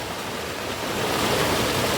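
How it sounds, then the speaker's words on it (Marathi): A small stream swollen by heavy monsoon rain rushes fast with muddy water, making a steady, loud broadband roar of turbulent flow that fills the clip without a break. "आता पाणी बघा कसं वाहत आहे पूर्ण गदूळ पाणी आलं"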